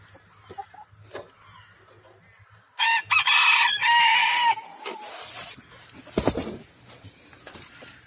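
Chickens and a rooster in a small backyard coop, fed alongside geese in cold weather: a loud crowing burst near the middle, with scattered clucks and farmyard stirrings before and after, close by and with no talk.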